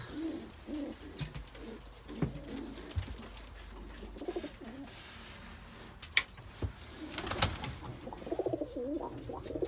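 Pigeons in a loft coo in soft, repeated low calls, mixed with occasional rustling, fluttering and scattered knocks nearby.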